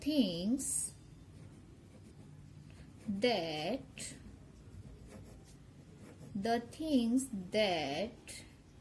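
A pencil writing an answer on a school worksheet, faint scratching strokes between and under bursts of someone talking.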